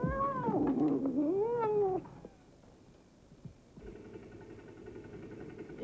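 A cat lets out a long, wavering yowl-like meow for about two seconds, then quiet room noise with a low hum follows.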